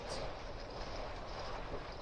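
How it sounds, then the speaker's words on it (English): Strong wind blows by the sea at a caravan park in Burghead, a steady broadband roar and buffeting against the microphone, continuous and fairly loud, with no speech. "Really, really windy."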